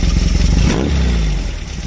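A Baja engine fitted with Weber IDF 48 carburetors and hex bar linkage; a loud, close, rough engine drone swells into a short rev and then settles back.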